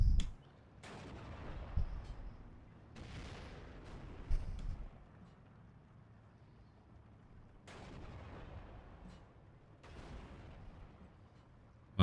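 Anti-tank gun fire in a Steel Division II World War II strategy battle, several heavy booming shots spaced a few seconds apart, moderately distant, with low rumbling echoes between them and no talking.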